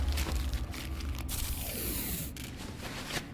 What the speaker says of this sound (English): when someone is using a medkit, you will hear a zipper sound, followed by a rummaging of the stuff inside the medkit